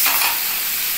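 Pointed gourd frying in a little oil in a pan gives a close, steady sizzle that crackles loudly at first and then settles slightly, with no voices.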